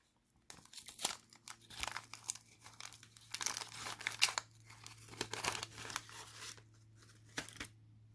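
Vintage baseball card packs tear open, with close, crisp crinkling and ripping of wax wrappers in irregular bursts under a faint steady hum and no talking.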